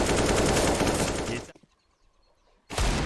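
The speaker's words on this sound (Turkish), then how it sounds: "Prime'dan çok güzel bir Deagle headshot" Desert Eagle gunfire from Counter-Strike on the Inferno map: loud, dense shots fill the first half, a near-silent gap follows, and a sharp burst returns at the end.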